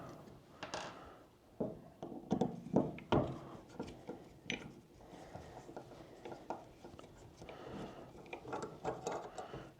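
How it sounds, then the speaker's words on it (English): Small Allen screws being backed out of the cams on an adjustable compound bow, with irregular metallic ticks, scrapes and clicks of the hex key working the screws, close up and fairly quiet. "So I am just going to back these two Allen screws out real quick."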